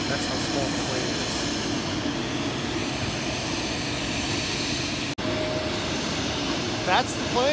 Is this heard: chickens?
no